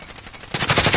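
Burst of rapid automatic gunfire in the shooter game Call of Duty: Warzone, starting suddenly halfway through and staying loud and close to the end, with quiet background before it.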